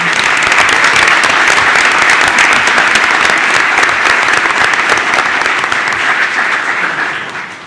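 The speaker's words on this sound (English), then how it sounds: "Let's give one more round of applause to these exceptional students and the distinguished teacher from Klein Cain High School." Audience at a school board meeting applauding students and their teacher from Klein Cain High School, a loud, dense, continuous round of clapping from many people that tapers slightly at the very end.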